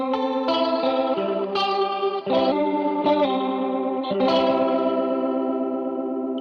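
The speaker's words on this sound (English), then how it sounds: "I also have a rotary sound for the vibier kinds of music." An electric guitar runs through a rotary-speaker effect, with chords strummed roughly once a second. Each chord rings with a warbling, swirling sustain, loud and close, with no talk.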